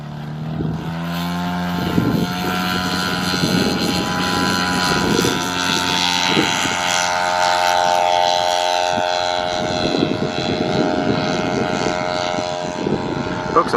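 A 35% scale TMMY Scale Composites Cessna 182 model airplane drones overhead at an outdoor flying event, a steady propeller hum with shifting pitch as it passes, while people talk nearby.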